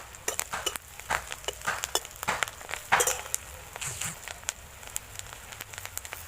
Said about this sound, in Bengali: বড়াগুলোকে দুদিক পুরো লাল করে ভেজে নেব দেখুন